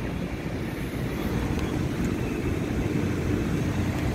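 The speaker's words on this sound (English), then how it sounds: "Blower sounds okay." A restaurant HVAC blower runs with a continuous broadband whoosh of moving air and a low rumble, steady and fairly loud, with no talking over it.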